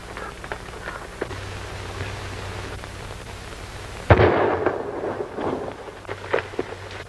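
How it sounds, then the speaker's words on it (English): A single gunshot from across an arroyo in an old western film, one distant, sharp crack with a rumbling tail set against steady outdoor background noise. "That shot came from the other side of that arroyo."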